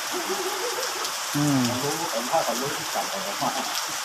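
Steady rain falls outdoors with a broad, continuous hiss, while someone speaks briefly over the downpour.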